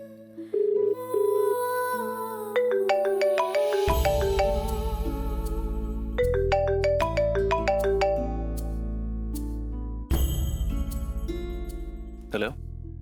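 A phone call rings out over a speakerphone, with a repeating ring tone sounding through music and ambient noise in a dramatic TV household scene, until the line is picked up.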